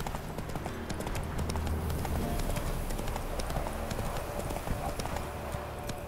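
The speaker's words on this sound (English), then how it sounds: "Run, Roach." Roach, a horse in The Witcher video game, gallops with rapid, steady clip-clop hoofbeats that continue throughout, dense and close, with a brief voice calling out over them.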